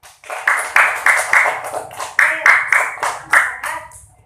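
A small class claps for a student in an Islamic ethics lesson, about a dozen loud, rhythmic bursts of applause at a steady pulse, with faint voices under it.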